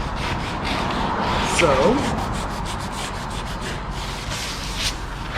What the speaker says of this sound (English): just take some 80 grit and rough that edge up